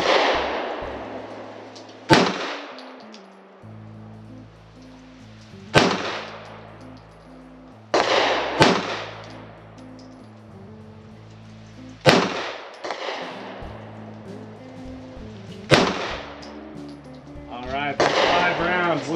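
Five sharp pistol shots ring out a few seconds apart, each loud and close with a short decaying tail, fired from a handgun mounted in a FLUX Raider X chassis; brief talk and low hum fill the gaps.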